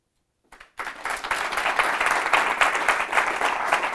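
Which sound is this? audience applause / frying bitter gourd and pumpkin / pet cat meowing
audience applause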